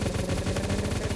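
An MG42 machine gun fired from the hip in a Roblox game, letting off a fast, continuous stream of rapid shots in an even rhythm, loud and unbroken over a short burst.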